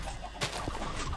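Blocky Minecraft chickens cluck in short clipped bursts, several overlapping calls at moderate volume over a steady background hiss.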